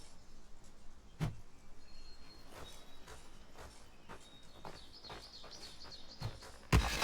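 Woodpeckers in the survival game Aska tap out scattered, spaced knocks over a soft outdoor ambience, with faint high bird chirps threading through and a louder knock near the end.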